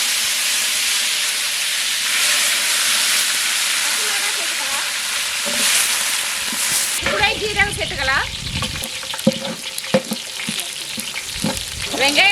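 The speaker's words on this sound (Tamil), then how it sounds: "நல்லா சூடாயிடுச்சு கடுகு சேர்த்துக்கலாம் இது கூட கருவேப்பிலை சேர்த்துக்கலாம்" Mustard seeds and curry leaves hit hot oil for a snake gourd kootu: a steady, loud frying hiss suddenly bursts into dense crackling and spattering pops that continue close up to the end.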